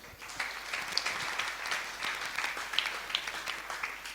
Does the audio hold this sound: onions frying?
no